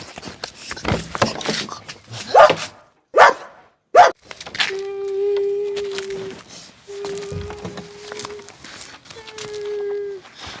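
A dog gives a couple of sharp barks amid people talking, then several long, drawn-out whining howls follow at close range.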